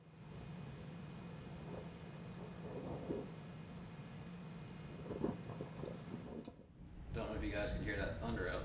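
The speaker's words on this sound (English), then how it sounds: "If you guys can hear that thunder outside" A low rumble of thunder rolls under steady rain, with a voice talking over the storm noise throughout.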